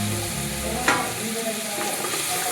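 Curry leaves frying in hot oil for a vegetable palav, giving a steady close sizzle with one sharp crackle partway through.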